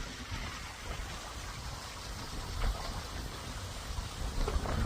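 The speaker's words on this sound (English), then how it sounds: "That's what makes that waterfall run." Water from a valve-controlled drainage ditch tumbling over a small waterfall, a faint, continuous rushing and splashing wash that swells slightly now and then, with no voices.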